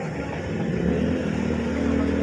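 A Rusi 125 motorcycle fitted with a Kalkal exhaust pipe runs close by, its engine holding a loud, steady droning rev with a gritty low exhaust rumble and no talk.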